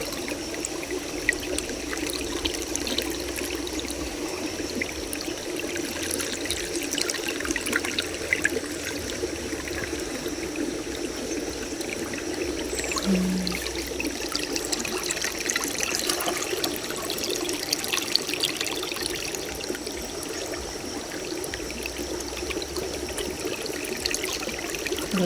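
A clear river flows steadily with a soft, continuous trickling and babbling, close and unbroken throughout, with no voices over it.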